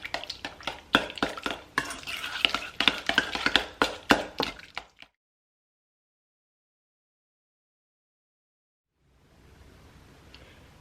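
Cream cheese icing being whisked in a bowl, a fast run of scraping, tapping strokes for about five seconds that then stops dead, leaving near silence and a faint hiss at the end.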